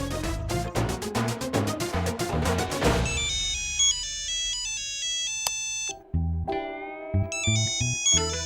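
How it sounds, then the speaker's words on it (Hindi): A mobile phone rings with an electronic ringtone, a rapid burst of repeated tones followed by a slower melodic tune, heard alone in an indoor setting. "अरे मेरा फोन बज रहा है"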